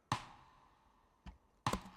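A rim shot drum sample strikes three times, each a crisp, woody knock with a short ringing tail; the first and last hits are loudest, the middle one softer.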